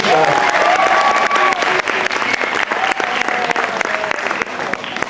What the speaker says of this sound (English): give them a clap, go on